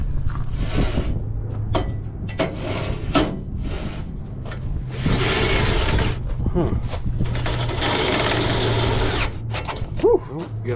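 A power drill boring a hole for a custom bucket rack on a trailer, in two long whining bursts between clattering handling noises and brief outdoor voices.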